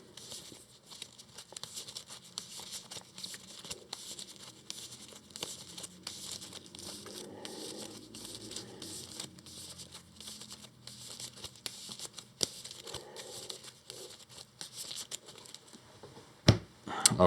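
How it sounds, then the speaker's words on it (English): A deck of game cards is shuffled quietly and close by, a soft continuous riffling and crinkling patter that runs throughout, ending with a couple of sharper knocks. "let's shuffle better"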